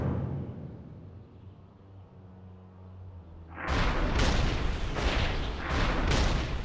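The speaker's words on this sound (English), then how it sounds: "that whole valley is going to be consumed by a massive fireball of death" A massive fireball explosion engulfs a valley in World of Warcraft: after several seconds of low, quiet rumble, loud booming blasts suddenly erupt and roll on in repeated heavy bursts.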